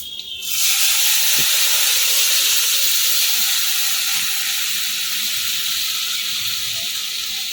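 Lentils poured into a hot pan with fried pointed gourd and fenugreek tempering set off a sudden loud, rushing sizzle that holds steady and slowly eases off.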